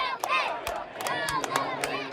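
A crowd at a yo-yo performance shouts and cheers in a dense, excited burst of many voices, with sharp whoops and claps punctuating the roar.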